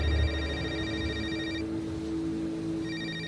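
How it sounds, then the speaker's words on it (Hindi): A phone rings as a sound effect in a rainy-night horror audio story, with two bursts of electronic ringtone separated by a short pause and a steady low hum beneath, loud and close with no speech. "उसी समय समीर का फोन बज पड़ा।"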